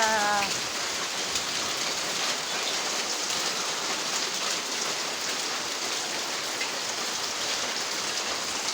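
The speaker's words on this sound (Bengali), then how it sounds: "দেখেন বৃষ্টি, কি বৃষ্টি, কি অবস্থা।" Heavy rain pours down on a run-down house, a steady, loud hiss of downpour that continues evenly throughout with no voices.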